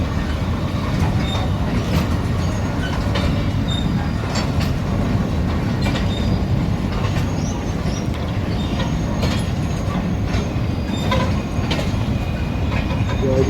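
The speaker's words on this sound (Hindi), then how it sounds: "वापस आ गया तो वो अब चल पड़ी है।" A train slowly pulls out of a semi-abandoned station at Renala Khurd, with a steady rumble and soft rail clatter that holds at a constant level throughout, nearby and continuous, with no talk.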